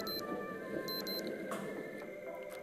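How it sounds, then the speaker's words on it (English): A wristwatch in a laundrette video game gives short high electronic beeps in pairs, clean and distinct over a steady low background hum. "So the beeps tell you, your watch will tell you what you need to do."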